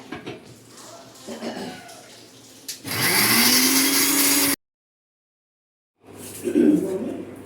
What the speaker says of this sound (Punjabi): ਮਿਰਚਾਂ ਪਿਸ ਗਈਆਂ ਸਾਡੀਆਂ